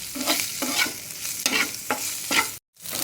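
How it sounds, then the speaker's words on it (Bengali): Chicken frying in a pan and being stirred, for a chicken omelette, with scraping stir strokes roughly every half second over a steady close sizzle, then a brief silent gap. "এখন আমি এটাকে একটু ভালো করে ভেজে নিচ্ছি"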